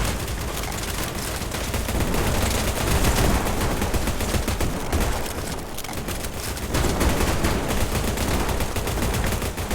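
Dense, continuous automatic gunfire from an AK-47 in the online shooter Battledudes, loud and sustained with overlapping bursts and explosions filling the whole stretch.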